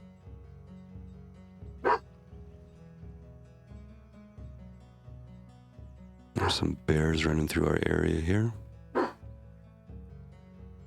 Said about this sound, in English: Is that what you're barking at, Jake? Are you barking at the bears?